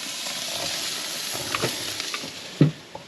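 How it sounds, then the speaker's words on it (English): Meat sears on a preheated barbecue over a fire, giving a steady close sizzle with a few small pops and one louder crackle near the end. "We'll just sear both sides."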